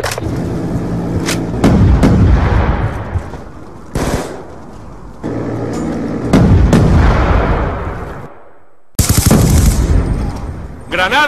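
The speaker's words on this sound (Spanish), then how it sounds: "¡Granada va! ¡Muévanse!" A video game firefight: loud, close bursts of rapid gunfire and heavy blasts arrive in several waves, with brief silent gaps between them, and a voice shouts over the noise.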